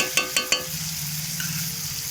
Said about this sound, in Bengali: হলুদ আর কাঁচা লঙ্কা এর সঙ্গে দিয়ে দিলাম। দিয়ে আমি কষাতে থাকবো